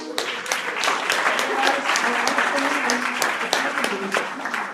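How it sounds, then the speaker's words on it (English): An audience at a network marketing gathering in Texas breaks into steady, dense applause that holds for several seconds, with voices talking over the clapping throughout. "give yourself a round of applause"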